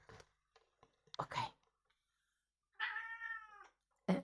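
A female cat meows indoors, with a clear drawn-out meow in the middle and a short one at the end, between soft rustles and quiet sounds nearby.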